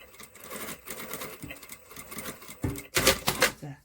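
Sewing machine stitching a 1 cm seam allowance on a waistband, several short bursts of rapid mechanical clatter with pauses, growing louder and denser near the end, fairly close with no talking.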